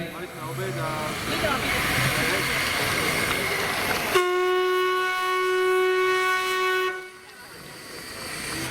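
The historic Papagaj steam locomotive, with its all-welded boiler, sounds a loud sustained whistle at a railway event in Slovakia, blown steadily for about three seconds over rumbling steam and crowd noise.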